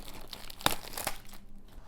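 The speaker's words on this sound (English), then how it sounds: "So let's go ahead and free them from the shrink wrap." Shrink wrap being torn and pulled off books, a few quiet crinkling rips and crackles in short bursts, close by, with no speech.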